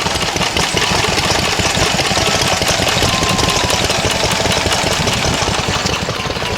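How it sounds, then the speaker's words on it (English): Vintage Lister stationary engines, made in Dursley and once used to power a milking parlour, run at a South Gloucestershire vintage rally with a loud, steady, fast chugging beat that continues throughout. "Here's some more Lister engines."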